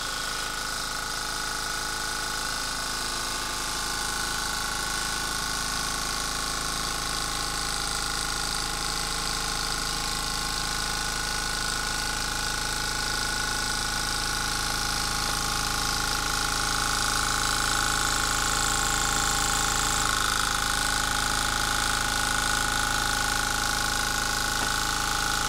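A small Wells stationary engine with a cast aluminium frame runs on one burning wick, giving a steady, continuous mechanical hum and whir with no talking.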